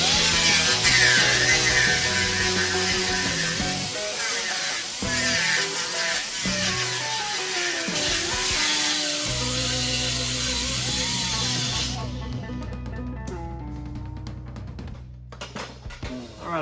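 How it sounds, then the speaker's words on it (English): A pneumatic grinder working rusty steel on the floor pan of a 1928 Model A hot rod, a loud, continuous high hiss and whine with shifting pitch as it bites, cutting off near the end to a lower air hiss. "Try this pneumatic grinder first."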